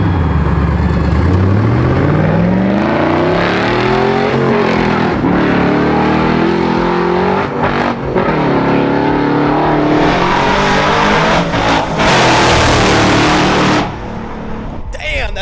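A garage-built 600 whp square body Chevy truck accelerates hard, engine pitch climbing through several gear changes with a loud, close roar and rising tire noise, while voices talk over it.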